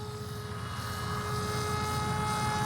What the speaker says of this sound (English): The plane will float and float and float.